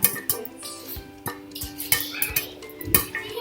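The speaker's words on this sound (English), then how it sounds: "You can probably hear our popcorn is still popping" Popcorn kernels pop inside a pan on the heat, giving sharp irregular cracks several times a second against faint sizzling and metallic rattling, close up, with no talking.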